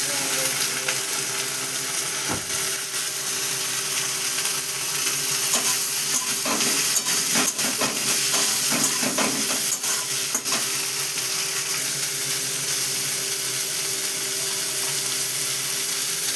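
Okra being stirred with ginger paste in a hot pan, a steady sizzle running throughout with a cluster of scraping, clinking spatula strokes in the middle.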